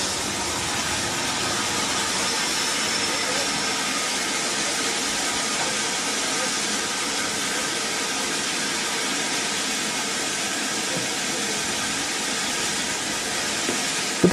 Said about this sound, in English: arriving at Gromont is 61264, a B1 class of locomotive designed by Sir Nigel Gresley's successor